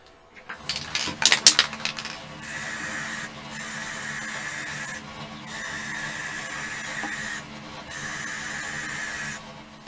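A wood lathe turning a paint-blistered platter rim, its bearings sounding off: a steady mechanical whir with a thin whine that briefly dips and returns several times, after a few sharp knocks at the start.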